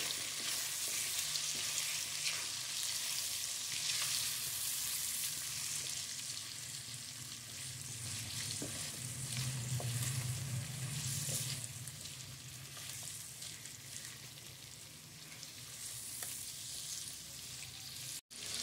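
Chicken curry with salt and turmeric sizzles steadily in a pan while it is stirred, with a continuous close frying hiss and occasional scrapes and no one speaking.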